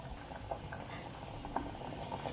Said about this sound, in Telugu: ఇలా మరుగుతుంది.